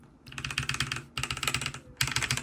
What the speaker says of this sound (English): Let me just type right here